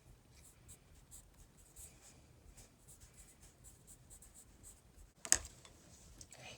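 Pencil scratching across paper for a landscape sketch, a soft steady rasp of short strokes with one sharper scrape near the end, quiet and close with no voices.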